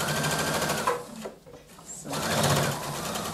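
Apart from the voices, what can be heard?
sewing machine stitching a zipper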